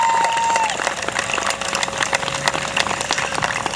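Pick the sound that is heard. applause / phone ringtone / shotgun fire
applause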